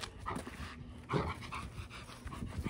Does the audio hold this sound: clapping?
no